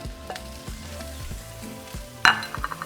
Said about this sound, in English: After 2 minutes, we're going to add 2 chopped Roma tomatoes.